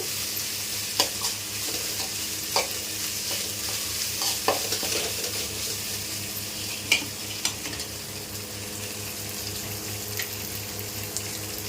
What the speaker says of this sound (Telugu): ఉల్లిపాయ అల్లం వెల్లుల్లి పేస్ట్ అయితే బాగా మనకు పచ్చివాసన పోయేంత వరకు అయితే బాగా నూనెలో ఫ్రై చేసుకోవాలి.